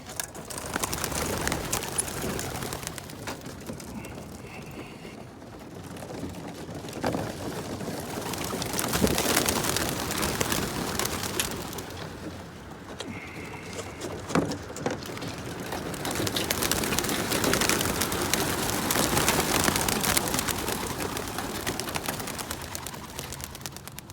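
Racing pigeons heard after release from crates at a race liftoff, a busy outdoor wash of bird calls and fluttering with occasional soft coos, steady and fairly loud throughout.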